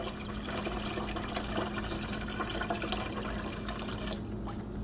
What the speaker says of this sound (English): we're just going to add water until this is probably halfway full